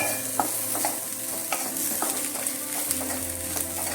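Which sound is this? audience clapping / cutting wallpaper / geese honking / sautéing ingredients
sautéing ingredients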